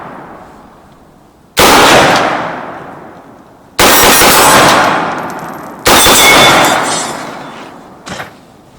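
A 7.62x39 AR15 rifle fires three loud, sharp shots at irregular spacing outdoors, each followed by a long echoing decay, and a fainter fourth bang comes near the end.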